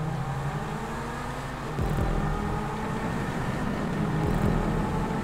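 Car racing fast through Grand Theft Auto V Online, its engine a steady broad drone with gear-shift sweeps and revving surges near the middle and end, continuous and fairly close.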